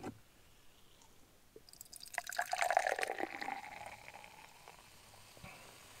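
Energy drink poured from a can into a glass, a soft liquid splash and fizzing that builds for a couple of seconds then trails off into quiet bubbling, close and fairly faint.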